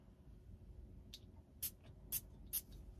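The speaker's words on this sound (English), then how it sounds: "So I'll spray a little bit on my wrist here." Three short, crisp hissing spritzes from a Louis Vuitton City of Stars perfume spray nozzle onto a wrist, evenly spaced, following a faint softer puff in a quiet room.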